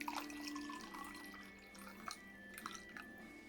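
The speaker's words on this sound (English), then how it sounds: "Fill it up, not all the way." Water pours from a bottle into a container with a soft, steady trickle and a few faint drips, quiet and close, with no voices.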